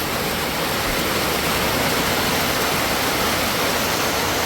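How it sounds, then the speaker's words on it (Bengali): Heavy rain pours down in a dense, constant roar, loud and unbroken from start to finish. "আরে দেখেন কি পরিমাণে বৃষ্টি নামলো"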